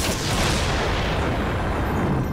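A cannon blast sound effect from the Power Rangers Beast Morphers show: a loud, dense, rumbling explosive roar that fills the whole moment without pause, with no speech over it.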